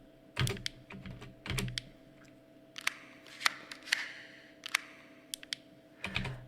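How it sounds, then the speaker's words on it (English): Clicks from a military grade tactical flashlight, used as a looped sound in a song, come as a quiet scatter of crisp, irregular taps, some doubled in quick pairs, with nothing else audible. "it's the sound of me clicking the light on"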